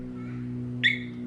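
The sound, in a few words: motorbike alarm beeping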